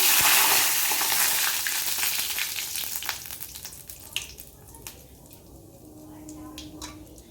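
Hot oil in a kadai sizzles and hisses close by as cumin and bay leaf go in, loud at first and easing, with scattered crackles and light utensil clicks.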